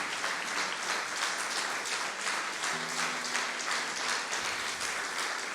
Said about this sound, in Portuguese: Vamos aplaudir o Senhor e glorificar o seu nome.